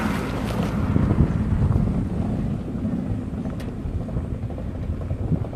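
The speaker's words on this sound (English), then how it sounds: "We got the push cars coming past everyone, so we're going to halt again because they're really loud" Loud push cars at a Sportsman race track roar past in a continuous, heavy, low engine rumble that swells early and then holds steady, with no voices over it.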